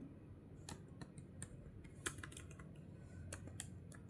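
Typing on a computer keyboard, sparse individual key clicks and taps spaced irregularly, close but quiet over a soft room hiss, with no voice.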